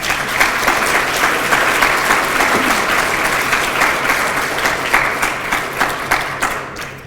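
Loud, sustained applause fills a hall at a Pittsburg State University half-century reunion ceremony, many hands clapping steadily before tapering off at the very end.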